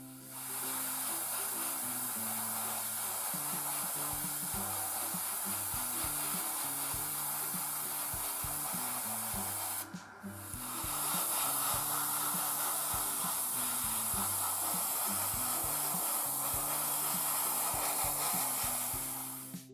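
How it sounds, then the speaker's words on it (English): Mr. Color 307 grey paint sprayed from an airbrush onto the cockpit interior of an Academy 1/48 MiG-21 model kit: a steady, close hiss that drops out for a moment near the middle before resuming, over a faint musical background. "I sprayed Mr. Color 307 Grey for the cockpit interior"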